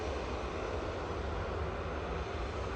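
An easyJet Airbus A320-200 bound for Catania roars at Manchester Airport, a dense, steady jet-engine rush that holds even and loud throughout, with no voices.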